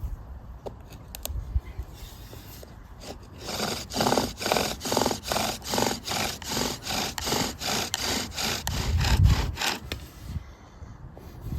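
A bow drill spindle burns into an oak fireboard with rhythmic rasping strokes, about a dozen even back-and-forth passes that grow louder and faster before stopping, close up and with no talking.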